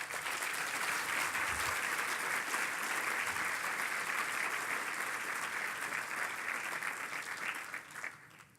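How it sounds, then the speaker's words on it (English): An awards-ceremony audience gives sustained applause for the honorees, a continuous wash of many hands clapping at a moderate distance, even and unbroken before tapering off in the final second. "Please join me in a big round of applause for all of them."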